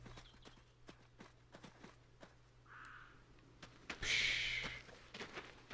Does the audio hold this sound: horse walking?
yes